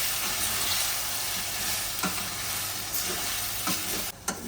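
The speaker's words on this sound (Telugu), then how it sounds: "ఇప్పుడు ఇందులో అల్లం వెల్లుల్లి పేస్ట్ వేసుకుందాం కలుపుకోవాలి" Ginger garlic paste frying with onions in a mutton drumstick curry, a loud close continuous sizzle with occasional stirring clicks of a spoon against the pan.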